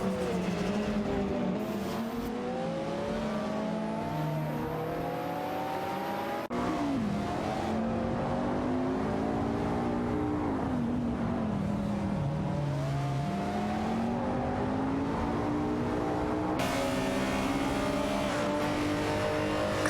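Racing cars in an AI-run race: several engine tones overlap, rising and falling as they accelerate and ease off, steady and fairly loud throughout the long stretch, with no voices.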